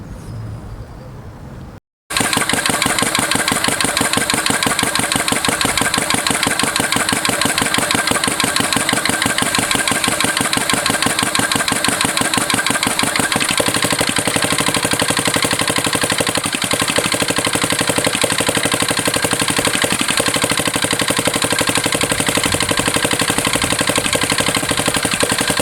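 A transparent research combustion engine with fully variable valve actuation runs in two-stroke mode at 500 RPM, a steady, loud, evenly pulsing mechanical drone that starts abruptly after a brief lull and continues unchanged throughout.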